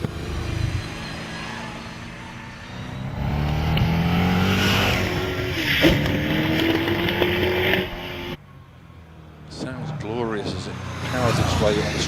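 A 7.3 litre Schmidt Chevrolet V8 hillclimb car races uphill at the Harewood hillclimb, its engine roaring loud and near for several seconds and falling away, before a commentator talks over the fading motor.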